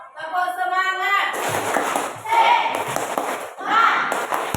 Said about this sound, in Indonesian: Sebelum kita mulai kita tepuk semangat dulu. Tepuk semangat.